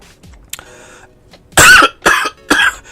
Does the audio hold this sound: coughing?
yes